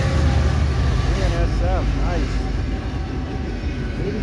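A northbound Norfolk Southern intermodal freight train with a BNSF locomotive as the middle unit rolls past, a loud low rumble and rattle that fades slightly over a few seconds, with talk over it.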